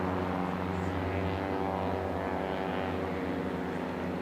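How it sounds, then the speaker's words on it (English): A Legend Cub light aircraft with a big Titan 370 engine at an air race championship, a loud sustained propeller drone with a steady tone, close by and running throughout. "The big Titan 370 engine in the Legend Cub making a lot of noise this morning."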